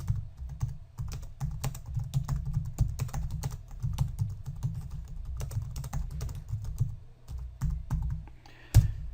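Someone types steadily on a computer keyboard. The rapid key clicks run on without a break, fairly quiet and close, with a louder thump near the end and no talk.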